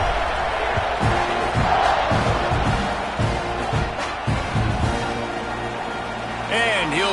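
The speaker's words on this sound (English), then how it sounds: "You think this crowd's going to get loud when their defense comes on the field?" A football stadium crowd at a kickoff roars and cheers loudly and steadily throughout, while a commentator talks over the noise.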